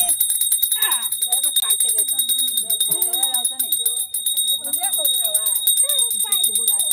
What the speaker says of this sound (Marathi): गौरी आणताना आणि गौरी विसर्जन करताना कंटिन्युअस आमच्याकडे घंटा वाजवली जाते